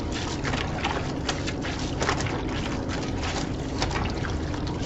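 Clothes washed by hand in water make a continuous wet, sloshing swish with rhythmic squelches as fabric is rubbed and scrubbed, close and fairly loud throughout.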